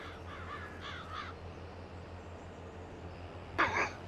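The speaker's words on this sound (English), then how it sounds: "I don't think Bird likes my jokes." Crows caw in a farming video game, with a few raspy calls early on and a louder, closer caw near the end over a steady low background hum.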